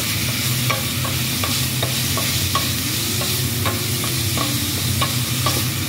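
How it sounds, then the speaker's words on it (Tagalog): Broccoli sautéing in a pan for broccoli soup, a steady loud sizzle with repeated scraping taps of a utensil stirring at an even rhythm, no voices. "Gisa mo yung broccoli."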